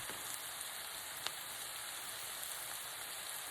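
Vegetarian nacho filling sizzles steadily in a hot pan, a continuous bright crackling hiss with a few sharper pops, fairly quiet and without talk.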